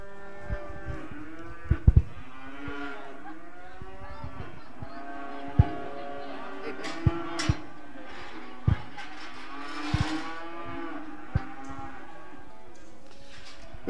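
Heifers and other cattle moo repeatedly at an Edam livestock show and sale, with long overlapping calls, some near and some farther off, and occasional sharp knocks and clanks between them.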